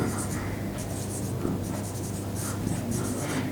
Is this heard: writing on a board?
yes